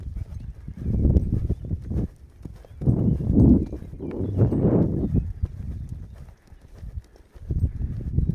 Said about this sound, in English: loping around here in the counter canter